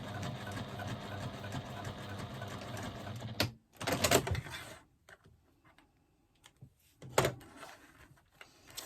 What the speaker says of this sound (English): I'm just going to stitch across the bottom again, 1/8 of an inch seam allowance, back stitch at the beginning and the end to secure my stitching.